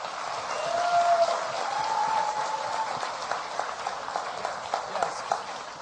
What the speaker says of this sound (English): Let's have a round of applause for our Tomb Raider panel